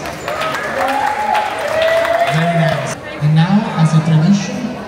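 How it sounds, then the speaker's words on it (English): A crowd aboard the Carnival Paradise cruise ship applauds a performer named Amber as she is introduced, a loud, continuous wash of clapping layered with music and voices. "Big round of applause."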